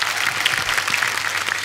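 Studio audience on The Kapil Sharma Show bursting into loud, dense applause, a steady wash of many hands clapping close and full for the whole stretch.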